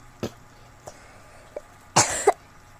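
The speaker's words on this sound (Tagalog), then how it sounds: "Ubo tuloy ako." One person coughs, with a few short coughs followed by a longer, harsher coughing burst, close and clear with no talking.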